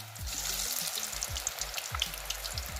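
Fish pieces fry in very hot oil for a commercial-style baam fish fry, a dense, bright, crackling sizzle that holds steadily throughout with scattered pops, close and with no one talking.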